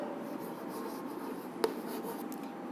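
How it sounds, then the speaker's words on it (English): Faint, steady scratching of an answer being written out during a primary school moral science lesson, with one sharp tap midway over a soft room hiss. "So let's write answer."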